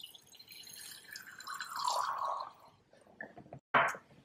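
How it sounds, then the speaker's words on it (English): Deionized water pours into a glass rinse beaker in a lab, a gurgling, rising trickle that fades, followed by a couple of short splashes. "I'm going to put some water into my rinse beaker here."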